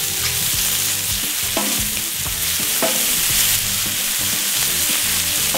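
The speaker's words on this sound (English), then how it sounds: "Just gonna flip the bacon." Thick-cut peppered bacon sizzles in a pan just after flipping, a loud, steady crackling fry with faint background hum, close up and without talking.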